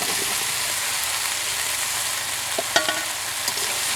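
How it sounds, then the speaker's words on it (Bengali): Eggplant frying with rupchanda fish masala: an even, dense hiss of sizzling oil holds throughout, with a few sharp clinks of a utensil near the end. "এখন আমরা দিয়ে দিতেছি বেগুন।"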